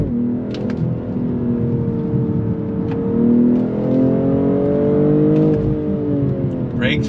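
A 2022 BMW M240i with its ZF 8-speed automatic pulls hard under throttle, the engine tone rising steadily with a shift dip partway through, loud and close from inside the cabin while a person exclaims over it.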